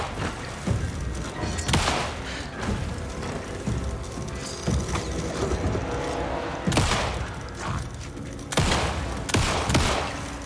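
Gunfire rings out in Alan Wake 2 at the Lake House, with several loud, sharp shots spaced irregularly among smaller thuds and impacts over a continuous game soundscape.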